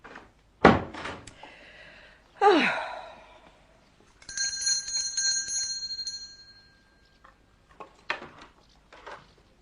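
A servant's bell rung to summon the butler in a radio drama, a sustained ringing tone in the middle preceded by sharp thumps and a sigh, with a door-like knock and faint shuffling afterward.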